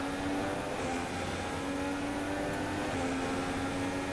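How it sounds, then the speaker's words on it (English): Steady engine drone of a Honda-powered Formula 1 car running behind in the F1 2016 racing game at the United States Grand Prix, a continuous even hum with no talk over it. "I can hear a Honda engine behind me as well"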